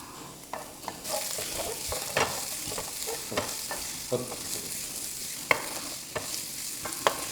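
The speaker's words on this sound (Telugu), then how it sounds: "ఎండుమిర్చి రెండు వేసుకున్న తర్వాత ఫ్రై చేసుకోవాలి" Two dried red chillies fry in hot oil in a pan for paneer 65, giving a steady loud sizzle and crackle with occasional stirring scrapes and taps throughout.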